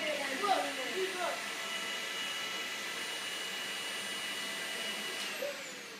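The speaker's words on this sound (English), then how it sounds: "Bossy, you can't vacuum celery." A vacuum cleaner sucking up pieces of celery, its steady motor whine running throughout with brief rattling bumps early on and voices talking over it.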